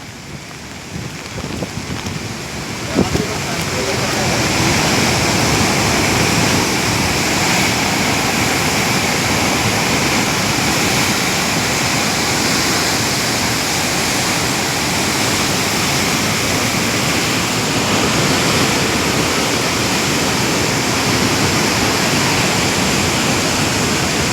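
A swollen river rushes past in a loud, steady roar of flowing water that builds after a few seconds and then holds unbroken.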